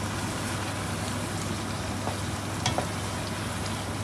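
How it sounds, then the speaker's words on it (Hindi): Chicken frying in a pot for pulao gives a steady, even sizzle that fills the whole stretch, with a couple of faint clicks near the end and no voices. "so now you just wait for the chicken to get cook नहीं ब्राउन थोड़ा सा गोल्डन ब्राउन हो जाए"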